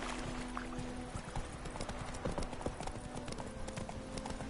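Geralt's horse Roach galloping in The Witcher 3: Wild Hunt, rapid rhythmic hoofbeats thudding steadily and close throughout over a constant low background hum, with no talking.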